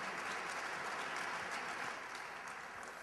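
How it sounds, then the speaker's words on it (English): An award ceremony audience at the BOBs 2008 blog awards in Berlin applauds the winner Foodlog, sustained many-handed clapping, moderately distant and easing slightly toward the end. "So a round of applause for Foodlog."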